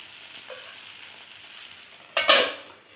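Rice flour akki roti hits a very hot griddle with a short, sharp sizzle near the end, after a faint clink and a quiet, steady hiss.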